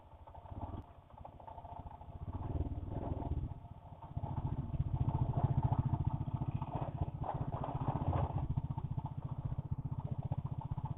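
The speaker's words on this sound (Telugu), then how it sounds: "నా బైక్ బాగా డ్రైవ్ చేస్తున్నాడు." A motorcycle being ridden along the road, its engine throbbing in a steady, close, fairly loud rhythm throughout, with no one talking.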